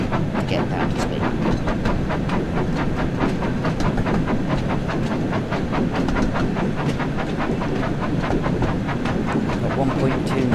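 Thomas the Tank Engine runs along the track in the Train Sim World 5 game, giving a steady rolling rumble with a rhythmic clickety-clack and a hissing undertone that stays even and continuous throughout.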